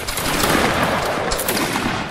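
A loud, dense musket volley crackles in a Napoleonic Wars video game battle, many shots blending into one sustained roar of gunfire lasting about two seconds, close and overwhelming.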